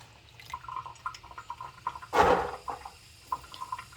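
Running water rinsing cooked pink-eye purple hull field peas, with soft drips and trickles and a brief louder gush of water midway, close and fairly quiet.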